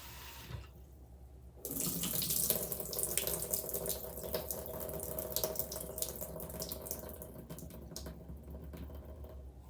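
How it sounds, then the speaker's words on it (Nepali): Red lentils rinsed under a running kitchen tap, water splashing steadily into a sink for most of the stretch, close and fairly loud after a quieter opening. "मैले 3 चोटि यसरी नै पखालेँ"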